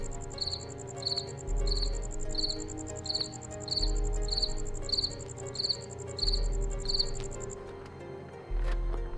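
A cricket chirps in quick, evenly spaced bursts, a bright repeating trill close by that stops near the end, over a low background hum with no talking.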